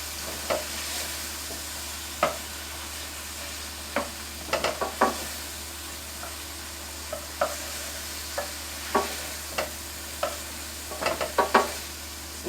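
Mushrooms, shallots and minced garlic fry together in a pan for chicken marsala, a soft steady sizzle broken by repeated scraping stirs and clicks of a utensil against the pan.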